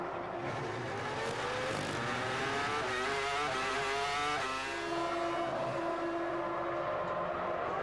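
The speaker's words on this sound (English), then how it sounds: "It is Barrichello from the race lead, diving into the pit lane now." Formula 1 race cars scream past during pit stops at the 2002 Canadian Grand Prix, their engines rising and falling in pitch as they pass, with no talking.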